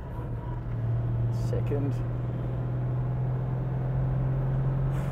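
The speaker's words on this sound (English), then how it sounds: "Oh, this V8 is having to work for it." A Toyota LandCruiser 70 Series V8 labours uphill while towing, a low steady engine drone under load inside the cab, with a person speaking briefly over it.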